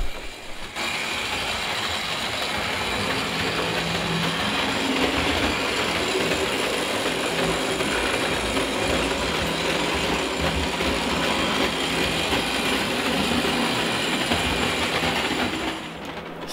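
A Märklin BR 24 model steam locomotive runs on Märklin M-track, producing a steady, close rolling rumble with fine rail clatter and a faint whine that continues evenly for about fifteen seconds before cutting off.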